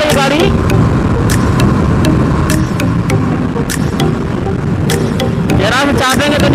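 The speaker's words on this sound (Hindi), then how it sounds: "देखिए 80 के स्पीड चल रही गाड़ी।" KTM RC 390 motorcycle riding at about 80, its engine a steady loud drone mixed with wind rush heard from the rider's position, with someone talking over it throughout.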